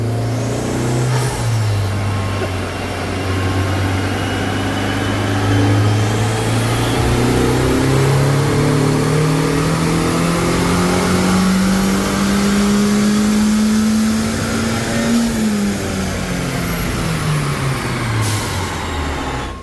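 A Honda Civic Type R FL5 engine revs hard on a dyno, its loud tone climbing steadily through a long pull before dropping off, with no talk over it.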